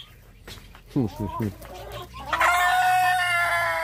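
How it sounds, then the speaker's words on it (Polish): Several chickens cluck in short bursts, followed by a loud rooster-like crow with sustained harmonic tones, close by and clearly audible. "Kury."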